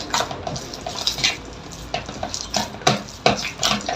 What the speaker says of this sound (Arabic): ندعكها بشكل كويس